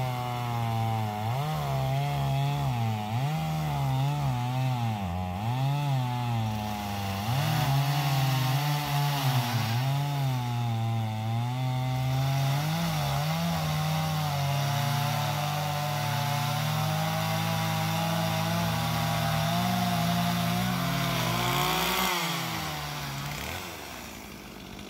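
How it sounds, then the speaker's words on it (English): A chainsaw runs steadily while trimming through a tree at a house after a fire, its engine droning close and loud and rising and falling in pitch as it cuts, with no talk over it. "one of these guys is trimming through the tree"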